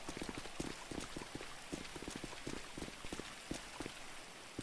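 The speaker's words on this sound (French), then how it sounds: "Ah putain, il pleut!" Rain begins falling outdoors during an evening at a fashion week event, a dense steady patter of drops striking hard surfaces with scattered louder splashes, fairly close and continuous, with no voices.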